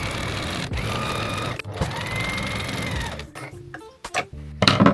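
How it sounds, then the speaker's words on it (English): Sewing machine stitching seams on fabric sleeves, running steadily and loudly for a few seconds, pausing briefly, then running again before slowing to a few short bursts. "Let's turn on the sewing machine and get that done."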